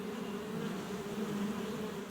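A swarm of wild bees taking flight in a forest, a dense, steady buzzing drone that holds evenly throughout, fairly faint and without any voices.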